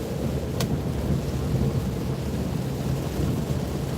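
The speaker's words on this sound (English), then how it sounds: "That was definitely a heavy rain." Heavy rain drums steadily from inside a vehicle on a roadside, a dense, continuous rumbling wash with deep low-end weight and one brief sharp crackle early on, no talking.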